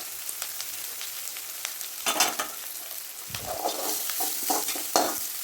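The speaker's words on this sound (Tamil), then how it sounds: "நல்லா வணக்கி விட்டுங்க." Onions sautéing in a pan for veg biryani, with a steady bright sizzle under repeated scraping strokes of a spoon, close and fairly loud, with no talking.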